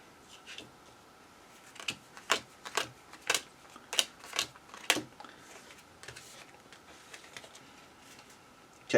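Cards for the board game Undaunted Normandy are riffled and tapped in a quick off-board shuffle, a string of sharp, crisp snaps in an irregular rhythm, close and clear with no talk.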